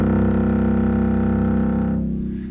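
A dense, buzzing granular texture of rapid tiny pulses forming a steady drone, loud and close, fading out near the end.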